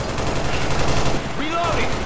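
Rapid automatic gunfire from the Left 4 Dead 2 video game, a dense, steady fusillade of shots running throughout, with voices talking over the shooting.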